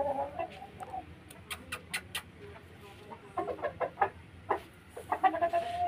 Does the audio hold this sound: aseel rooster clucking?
yes